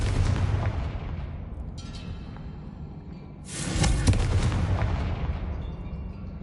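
Confringo fire spell exploding in the Hogwarts Legacy game: a heavy rumbling blast that swells midway and slowly decays, set against a constant low roar, with no voices.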